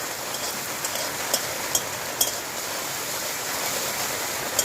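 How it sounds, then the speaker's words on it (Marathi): Heavy monsoon rain pours steadily outside a kitchen where fish is being cooked on a wood-fired clay stove, a dense even hiss with scattered sharper drops and no talking. "मस्त जोरदार पाऊस पडतोय ना"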